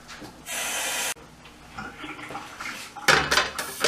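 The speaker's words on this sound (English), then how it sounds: "Let me clean up my pan real quick." A cooking pan is scrubbed and rinsed at a kitchen sink, with a loud burst of running water and clattering metal, then quieter scraping and a final splash of water and dish noise.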